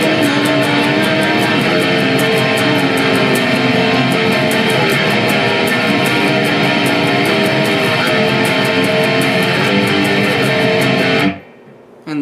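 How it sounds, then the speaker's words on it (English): Distorted electric guitar strums dense power chords in a chorus rhythm, a loud continuous wall of sound that cuts off abruptly near the end. "It's just a bunch of strumming power chords."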